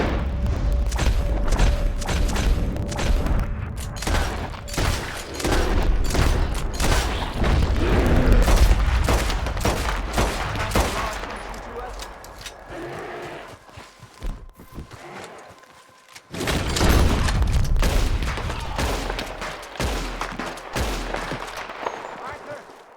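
Gunfire and booming explosions in Red Dead Redemption 2, a dense, continuous barrage of loud shots across the whole stretch with a brief drop near the middle, mixed with game voices and possible hoofbeats.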